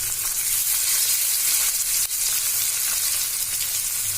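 Sardines for chala fry sizzle in hot oil with curry leaves, a steady, loud, dense crackle that holds without pause.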